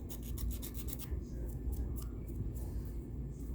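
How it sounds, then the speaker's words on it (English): A nail file rasps back and forth over polygel on a fingernail in quick, close, repeated strokes, brisk at first and then steadier and softer. "Now I'm not filing my actual nail, I'm just filing the gel."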